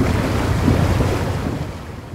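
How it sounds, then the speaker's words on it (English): An amphibious vehicle in a World War era combat game crossing water, giving a steady bubbly, churning wash that stays loud and even throughout, with no voices over it. "There's a new sort of bubbly sound effect when traversing the water in an amphibious vehicle."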